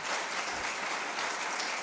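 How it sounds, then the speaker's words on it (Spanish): An audience at a Kabbalah talk in Ávila applauds, a dense, even patter of many hands clapping throughout the brief moment, moderately loud with no voices. "Primero un aplauso a mi amigo."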